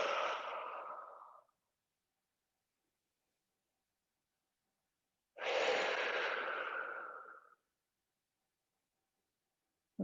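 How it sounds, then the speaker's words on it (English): Two slow, deliberate breaths during a movement and mobility exercise, each a long, airy exhale pushed fully out, separated by several seconds of silence. The breathing is close and soft, with nothing else heard. "Breath to the ribs. Full exhale."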